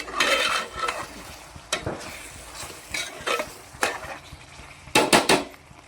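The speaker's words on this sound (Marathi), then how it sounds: "आता आपण हलवून घेऊ." A spoon stirs fish curry with coriander and salt in a pan, producing repeated scraping and clinking strokes in uneven bursts over a low simmering sizzle, close by.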